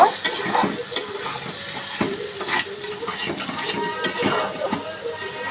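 Spices with ginger-garlic paste, salt, chili and turmeric are stirred in a frying pan, bright sizzling broken by repeated scrapes and clinks of a utensil against the metal at an irregular rhythm, close and fairly loud.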